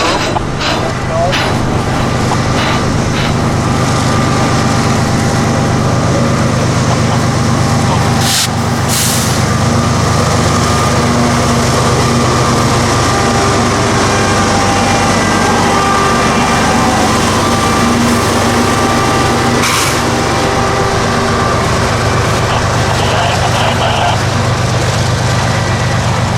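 A 9,600-foot freight train at a railroad crossing makes a heavy, steady, close rumble throughout, broken by a couple of sharp air-brake hisses.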